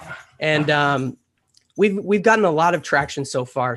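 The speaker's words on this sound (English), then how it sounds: "Excuse my dogs, I'm sorry." Small dogs barking and whining behind someone talking, with a short high-pitched burst of yips before a brief pause and more speech over it.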